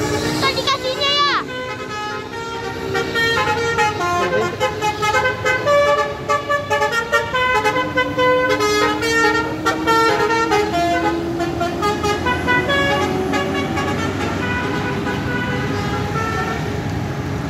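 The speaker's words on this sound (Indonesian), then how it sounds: "itu dia salah satu bus yang menggunakan telolet basuri guys" A tourist bus, a CKJ Royal Avante, sounds its telolet basuri horn in a long, loud run of melodic toots that rises and falls in tune. It plays continuously over engine rumble and street noise, with voices mixed in.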